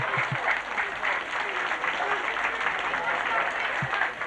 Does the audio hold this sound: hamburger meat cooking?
no